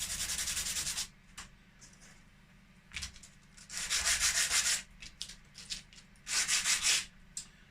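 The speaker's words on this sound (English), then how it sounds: "you can also sand the back just to give it a little bit more adhesion when gluing on" Sanding the back of a small G scale model ridge tile, a rhythmic scratchy rubbing in close, loud strokes of about a second each, separated by brief quieter pauses.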